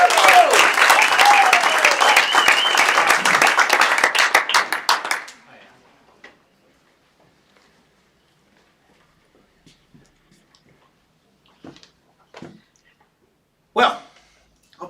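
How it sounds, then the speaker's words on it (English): An audience at a live auction breaks into loud, dense applause that runs for about five seconds and then dies away. A few scattered claps and small noises follow in an otherwise quiet room. "Great round of applause to a tremendous bloke, Richard Stringer."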